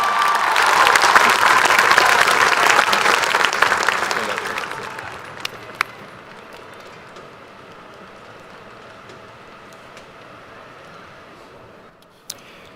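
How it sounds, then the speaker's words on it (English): High school graduation audience applauding a student and her family, a dense, loud burst of clapping in a large hall that fades out after about five seconds, leaving quiet room tone with a few stray claps. "Let's give a big round of applause to Tia and her family on a job well done."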